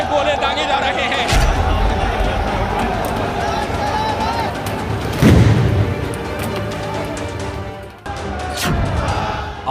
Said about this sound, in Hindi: ये देखिए किस तरीके से इस वक्त यहाँ पर आंसू गैस के गोले दागे जा रहे हैं।